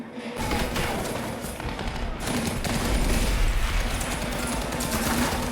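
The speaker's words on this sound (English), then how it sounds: "You gotta take that out right there, that machine gun, because that's tearing them up right there." Machine gun fire from a Pacific war battle at Iwo Jima sounds as dense rapid bursts, loud and continuous, with a short quieter gap before the shooting picks up again and runs steadily to the end.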